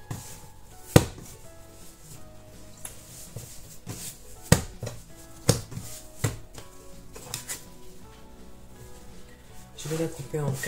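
Bread dough for sandwich loaf being cut into four pieces on a work surface, a few sharp knife chops spaced apart, close and fairly loud against quiet background with light handling noises.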